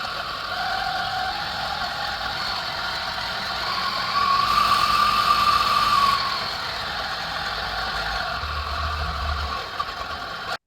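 A Varia VS6 coffee grinder runs steadily with a close, even motor whine and mechanical hum, which rises in pitch and loudness for a couple of seconds in the middle before settling back, with no talking.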